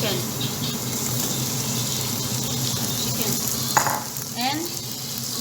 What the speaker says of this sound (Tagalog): After I put onion, we will put now our chicken